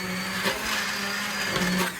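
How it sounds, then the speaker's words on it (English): An immersion blender whirs steadily through a cauliflower queso sauce for mac and cheese, a close, constant motor drone with slight wavering as it works through the mixture. "we're going to use the immersion blender just like we did in our last episode"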